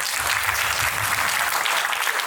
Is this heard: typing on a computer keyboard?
no